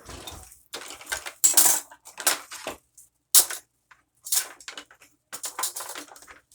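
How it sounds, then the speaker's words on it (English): Metal cutlery clinks and rattles in a kitchen as a knife is picked out before slicing on a cutting board, with short bursts of clatter spread over several seconds and quiet gaps between. "Grab a knife."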